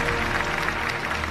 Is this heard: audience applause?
yes